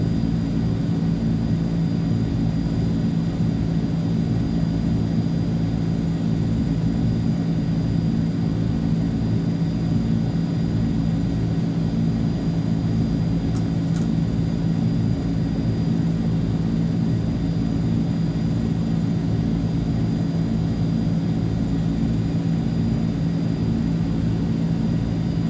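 Steady, loud drone of C-160 turboprop engines running in Microsoft Flight Simulator 2020, with a continuous low hum and even whine across the whole stretch, no voices.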